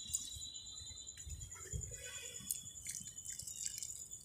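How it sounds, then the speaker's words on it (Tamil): Water poured or sprinkled onto garden plants after a mixture is stirred in, heard as faint, scattered dripping and splashing beneath a steady background of insect chirping, with no voices. "இப்போ எல்லா செடிக்கும் நம்ம தண்ணி ஊற்ற போகிறோம்"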